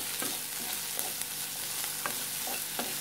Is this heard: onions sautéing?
yes